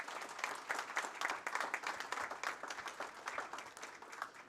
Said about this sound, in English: Let's give Bella a rousing round of applause.